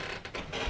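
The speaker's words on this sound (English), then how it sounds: "Squeaky floorboard." A squeaky wooden floorboard creaks faintly indoors, giving two brief rasping groans as weight shifts on it.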